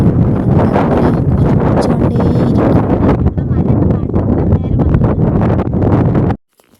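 Strong wind with thick mist on the hills at Ranipuram, Kasaragod, roars steadily into the microphone, a loud continuous buffeting rush that drops out abruptly at the end.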